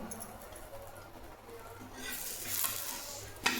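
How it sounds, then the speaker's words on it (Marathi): Ghee sizzling on an aloo paratha in a pan, a soft frying hiss that swells louder toward the end with a brief clatter at the close; no speech. "परत वरतून पण मी परोठ्यावर तूप टाकते"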